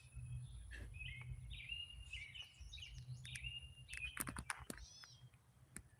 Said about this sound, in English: The birdie's chirping.